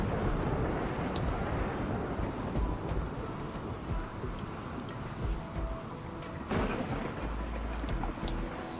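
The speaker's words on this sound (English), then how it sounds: "it's raining anyway, so that's not a problem" Steady rain with low rumbling thunder in the video game RimWorld, a continuous dense wash of sound with a few louder rolls and no speech.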